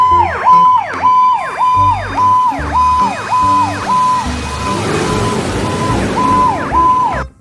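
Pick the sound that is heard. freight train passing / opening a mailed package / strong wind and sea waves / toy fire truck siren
toy fire truck siren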